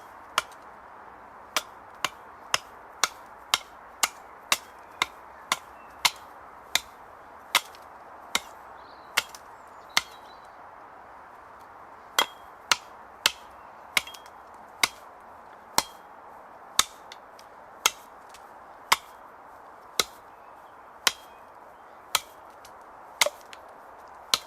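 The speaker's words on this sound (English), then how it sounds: "I'm just doing regulated and consistent blows to the same area," Hammer blows striking a cracked axe-like Viking blade, crisp metallic clinks landing in steady, regulated rhythm, some in quick clusters and some spaced out, close and clear over quiet background.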